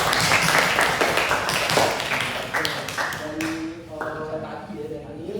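Schoolchildren in a classroom lesson clap together in a quick, rhythmic burst of sharp slaps for a few seconds, then the clapping fades as tonal voices and ringing sounds take over.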